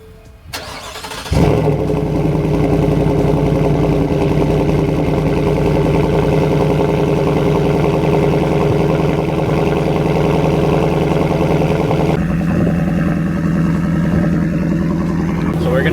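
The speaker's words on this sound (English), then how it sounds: "Let's go ahead and see how the cold start sounds." A Ford F-150 single cab with a new exhaust cold-starts with a brief crank, then catches into a loud, deep, steady idle that holds for many seconds, dropping slightly in pitch near the end.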